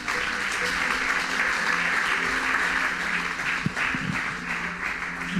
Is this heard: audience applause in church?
yes